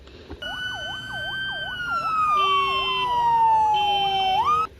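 A toy fire rescue truck plays its electronic siren, a fast wailing warble sliding slowly downward with beeping tones layered in, loud and close for several seconds before cutting off abruptly.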